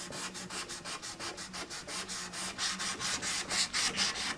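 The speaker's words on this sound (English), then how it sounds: "I like to fold my sandpaper 3 ways here, in thirds." Wood is sanded by hand with sandpaper folded in thirds, giving a rhythmic series of close, even rasping strokes with no talk.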